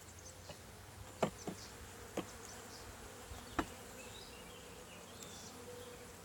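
Honey bees buzz at an open hive during an inspection at a ranch apiary, a soft, steady hum close by with a few brief louder passes of single bees, and no talking.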